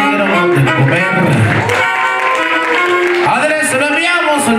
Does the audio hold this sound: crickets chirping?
no